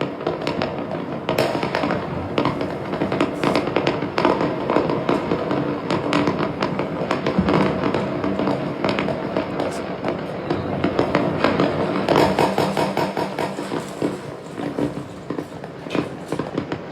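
New Year fireworks and firecrackers explode continuously, a dense crackling barrage of sharp pops and bangs that carries on loudly throughout with no pauses.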